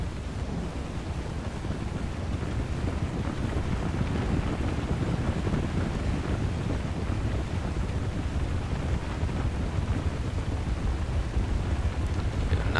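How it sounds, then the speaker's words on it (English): Steady rain pours with a low, constant rumble and windy hiss in the video game Warcraft: Total War, an even dense wash of noise with no distinct breaks for over ten seconds. "Nice weather, raining and such."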